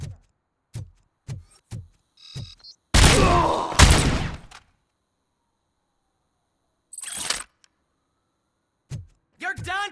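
Video game gunfire from Robocop: Rogue City, with several sharp separate shots followed by two loud, heavy bursts, then quiet gaps and a further shot, with a little voice near the end.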